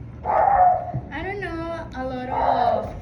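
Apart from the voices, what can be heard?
dogs barking in the street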